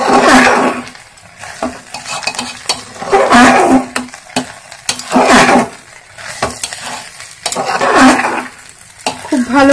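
Moong and chana dal khichdi is stirred and fried in a pan, loud rhythmic bursts of sizzling and scraping recurring every couple of seconds with spoon clinks in between.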